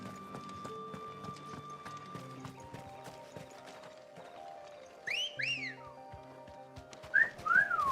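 Whistling from Final Fantasy XVI gameplay, two short bursts of rising and falling whistle tones near the end over a bed of game music and hoofbeats, with someone talking through it.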